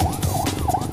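A barangay ambulance siren wails loudly nearby in fast repeating electronic sweeps, rising and falling about three times within a second, with traffic rumble underneath.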